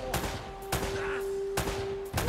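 Gunfire in the video game Uncharted: Drake's Fortune, four sharp shots spaced out over a steady low background hum and tone.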